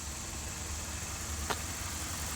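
A 2.5-liter Skyactiv engine in a 2015 Mazda CX-5 idles under the open hood with a steady, faint, even hum and a single brief tick midway.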